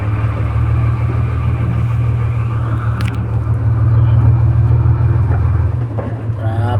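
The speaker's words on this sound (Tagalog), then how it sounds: "Traffic." Idling engines of cars stuck in a queue of road traffic, a steady low rumble close by with faint passing noises on top.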